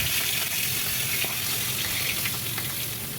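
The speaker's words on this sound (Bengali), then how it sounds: "আর দিচ্ছি 5 ফোড়ন" Five-spice seeds and dried red chillies sizzle in hot oil in a wok, a steady close hissing crackle that holds level throughout without talk.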